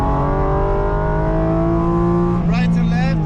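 A Porsche GT4 RS engine accelerating hard on the Nordschleife, a loud steady high-revving drone with rising harmonics and a brief gear change near the end, heard from inside the car.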